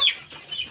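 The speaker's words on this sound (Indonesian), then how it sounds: "Ini adalah ayam yang tadi dikarantina." Young joper chicks, kept in quarantine in a cardboard box after treatment for a cold, give a couple of short high peeping clucks, close and fairly quiet.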